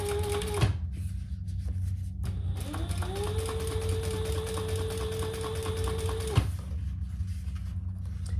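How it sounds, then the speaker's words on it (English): A sewing machine top stitches black fabric in two bursts, a short whirring run followed by a longer steady one with a rising start, close up with quiet gaps between. "we are gonna top stitch on top of the bottom piece."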